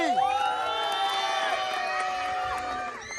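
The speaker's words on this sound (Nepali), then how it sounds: "ताली बजामे ताली" A crowd at a village-level men's volleyball tournament opening cheers and whoops, with many overlapping shouts and high voices near and far, sustained throughout.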